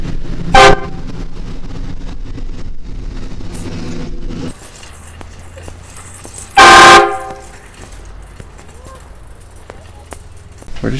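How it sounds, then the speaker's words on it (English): Two loud blasts from a train-style air horn fitted to a stroller in a prank, one early and one later, cutting over street noise and people talking in between. "Somebody's got a train horn or something."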